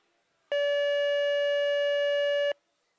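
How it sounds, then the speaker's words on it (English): At a rodeo bronc ride, an 8-second buzzer sounds as one loud, steady electronic tone that holds for about two seconds and then stops abruptly, with no talk over it. "Always good to hear that 8-second buzzer"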